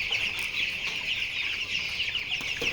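Broiler chickens clucking as a dense, continuous flock chatter, steady and fairly close throughout with no voices.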